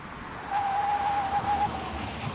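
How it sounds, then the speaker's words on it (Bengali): A car braking hard and skidding on a rain-soaked road through dense forest, a sustained tire squeal lasting about a second over a continuous noisy rumble. "হঠাৎ সজোরে ব্রেক মারল নিখিল।"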